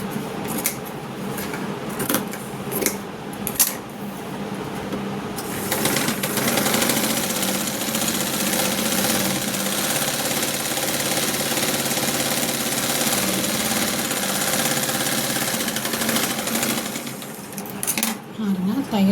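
Sewing machine stitching the lining of a blouse, a close, steady mechanical whir running almost continuously after a few short starts, with a voice talking over it.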